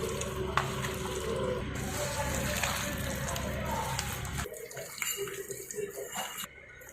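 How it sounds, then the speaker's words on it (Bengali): Water pours and splashes steadily into chicken pakora batter being readied for hand mixing, a close, continuous wet rush for several seconds that breaks off abruptly into quieter scattered handling noises. "আমি এখানে সামান্য পরিমাণে জল দিচ্ছি, মাখতে সুবিধা হবে।"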